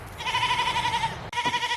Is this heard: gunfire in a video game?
no